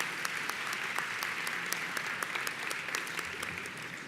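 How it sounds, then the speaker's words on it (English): An audience at a live awards event applauds steadily, with dense clapping and a few sharper individual claps standing out, sustained at an even level throughout. "Once again, a round of applause, doing great work."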